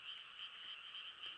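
Dense chorus of frogs croaking across a rural field at night, a steady high-pitched trill with no pauses, moderately loud and continuous throughout.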